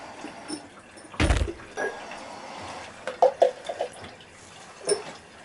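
Dark greenish-black chemical solution from gold recovery of RAM stick e-waste is poured back into a jug, a short liquid gush followed by a few small trickles and splashes, close by with no talking.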